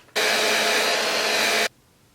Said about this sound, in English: then blow dry it